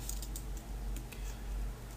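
Light, rapid typing on a computer keyboard while renaming a node in compositing software, soft faint clicks over a steady low hum with no talking.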